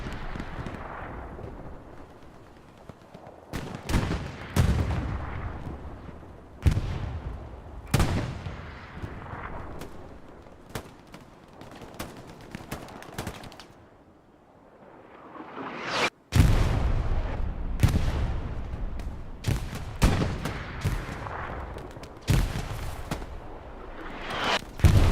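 Heavy artillery fire in the Hell Let Loose battlefield game, repeated booming blasts with long rumbling tails at irregular intervals, loud and close, some spaced several seconds apart.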